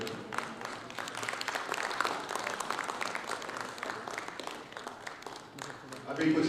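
Applause from the audience at a mushaira, a dense spread of clapping that carries on throughout, with voices mixed into the sound.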